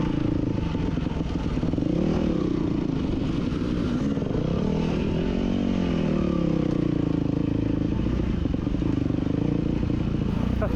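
An enduro motorcycle rides over rocky trails near Sand Hollow bluff, its engine droning and rising and falling steadily while the bike clatters and scrapes over rock, loud and close throughout.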